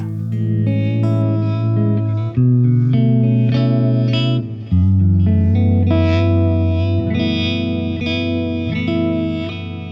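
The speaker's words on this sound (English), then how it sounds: "Has some delay and reverb." An electric guitar plays sustained chords and notes drenched in delay and reverb, repeats smearing into a lush, washing tail, loud and alone.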